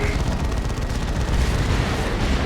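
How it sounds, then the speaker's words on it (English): Steady heavy weapons fire from plasma cannons in a Dawn of War 2 Space Marines versus Chaos Space Marines battle, with dense, continuous booming bursts that fill the whole stretch at a loud level. "Taking constant plasma cannon shots over there"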